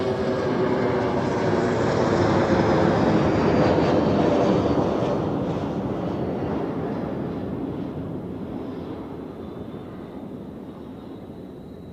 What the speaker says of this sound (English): And then we have the Helvetic Embraer 195E2 from Sarajevo.